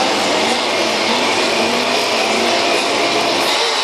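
Camaros, Mustangs and BMW 2002 race cars roar off the line together at a race start, a loud, dense wall of engine noise holding steady throughout.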